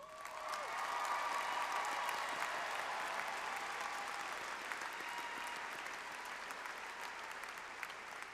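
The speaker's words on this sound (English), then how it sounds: "Would the audience join me in applauding our newest doctoral graduates?" Large audience applauding new doctoral graduates at a university fall commencement, broad sustained clapping in a big hall with slight cheering, fairly distant and holding steady before easing slightly.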